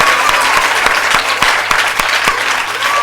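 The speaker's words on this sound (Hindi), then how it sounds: "जोरदार ताली प्रभु यीशु मसीह के लिए।" Loud, dense applause from a church congregation at a pastor ordination service in Lucknow, sustained clapping with a few sharp claps standing out near the microphone.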